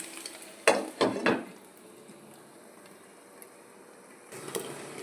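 Egg keema fries in a covered pan: a few quick clattering knocks of cookware, then a faint, even background hiss of frying beneath the lid, ending with another short clatter.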